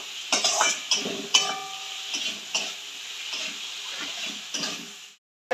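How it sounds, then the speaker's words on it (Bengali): Repeated metal scrapes and clinks of a utensil working fried potatoes through a spice mixture in a pan, over a soft sizzling background, at an uneven, unhurried pace. "এবার আমি ওই যে ভাজা আলুটা ছিল সেটা আমি ওর মধ্যে দিয়ে দেবো, দিয়ে সুন্দর করে কষাবো"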